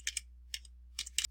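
Typing on a computer keyboard, several sharp, close clicks in small pairs spaced by short gaps, over a low steady hum.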